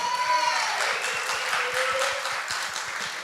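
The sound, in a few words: audience applause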